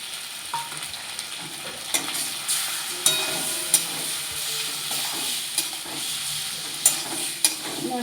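Masala of ginger, garlic, whole cumin, coriander, turmeric, tomato and chilli fries in a pan with a soft constant sizzle, broken by repeated scraping and knocking stirs of a spoon, close up and without speech.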